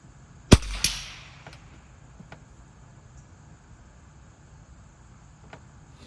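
A single sharp .22LR shot from an Australian Lee Enfield No 2 rifle firing CCI standard rounds, a crisp crack with a brief decaying tail, followed by quiet outdoor background with faint insect chirps.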